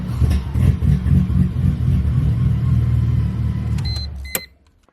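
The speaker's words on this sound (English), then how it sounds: "Give it a little rev." An SLK32/C32/SRT-6 car engine fitted with an 83mm throttle body drones at steady idle-to-mid revs, close up, before cutting off abruptly near the end.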